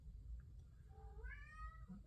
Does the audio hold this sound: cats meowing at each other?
yes